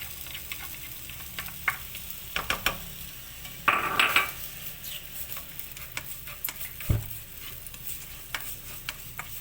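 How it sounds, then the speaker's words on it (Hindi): Chopped medium onion frying in oil in a pan while being stirred: a soft steady sizzle with scraping and clinks of a utensil on the pan, one sharper clatter near the middle. "प्याज को हम सॉफ्ट होने तक पकाएंगे।"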